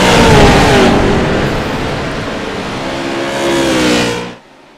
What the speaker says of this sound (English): All 6 cars are battling for the lead.